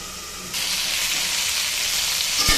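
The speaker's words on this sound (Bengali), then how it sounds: "দেখুন সবজিটাকে একদম ভালো করে ভেজে নেব" Mixed vegetables fry in oil in a pan for a vegetarian curry. A steady hissing sizzle swells louder after a moment and carries on close and continuous, with a soft knock near the end.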